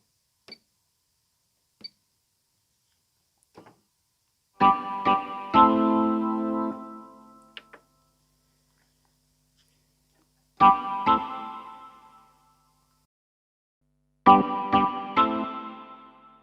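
Hammond-style synth organ chords struck in short bursts with percussive attacks shaped by a motion sequencer, each stab decaying quickly, separated by near silence; a few soft clicks between them.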